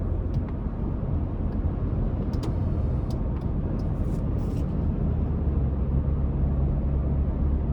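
A 2024 Toyota Tundra TRD Off-Road with a twin-turbo V6 and 10-speed transmission cruising at light throttle, a steady low engine and road rumble heard from inside the cab, quiet and even, with a few faint clicks.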